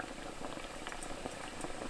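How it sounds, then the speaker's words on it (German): Hookah water bubbling steadily as smoke is drawn through the bowl, where a little vodka mixed into the water makes it foam slightly; continuous close gurgling with no talk. "Wenn ich jetzt ziehe, schäumt es auch nicht mehr hoch und kommt mir auch endlich nicht mehr in den Schlauch."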